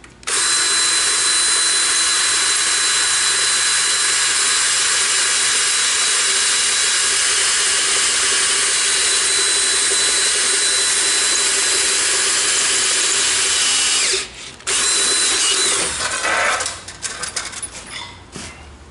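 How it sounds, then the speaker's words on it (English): A power drill bores into the reel cover of a Toro Greensmaster mower, a loud continuous whine that runs steadily for about fourteen seconds, then stops, restarts briefly and trails off in short bursts. "I'm going to drill into the reel cover after I locate it."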